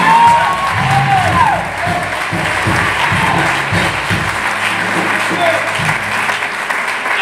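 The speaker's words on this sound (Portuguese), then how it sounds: "Vamos aplaudir o nome de Jesus." Church congregation applauding during a worship service, dense sustained clapping with scattered cheers and low voices mixed in, fairly loud and continuous throughout.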